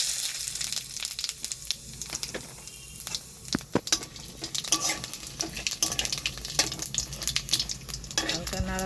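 Cumin seeds, bay leaves and a cinnamon stick frying in hot oil give a close, continuous sizzle, broken by scraping stirs and irregular crackling pops that build toward the end.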